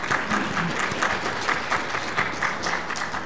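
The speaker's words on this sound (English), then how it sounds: "questions, let's applause." An audience at a Node.js and Azure developer talk at Flourish! 2016 applauds at the end of the presentation, dense continuous clapping with a crowded, steady texture.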